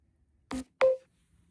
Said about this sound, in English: My phone made a weird beep